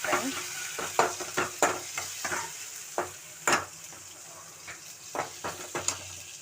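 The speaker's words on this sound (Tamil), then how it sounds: "இப்போ வெங்காயம் தக்காளி நல்லா வதங்கிடுச்சு." Onions and tomatoes sautéing in a pan for potato masala, with a steady sizzle under a series of sharp stirring scrapes and clinks spaced through the clip, close and moderately loud, with no one talking.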